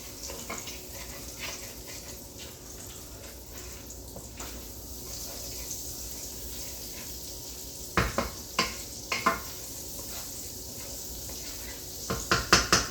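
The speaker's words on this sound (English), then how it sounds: "You wanna scrape the bottom, and you wanna get all the flavor you can out of this" Butter melting and sizzling in a pan for Cajun chicken, a steady hiss throughout, with a spoon scraping the pan bottom in short sharp bursts.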